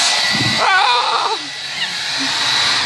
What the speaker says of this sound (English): It comes from the hairdryer